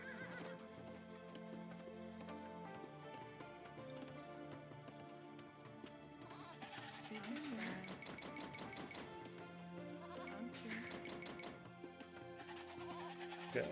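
Goats bleat in a siege strategy video game, set against layered game music, horse whinnies and clip-clopping hooves. The calls are brief and fairly faint within the busy mix.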